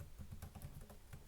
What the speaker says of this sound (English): So I'm just going to go up here and type in